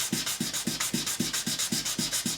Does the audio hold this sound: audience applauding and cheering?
no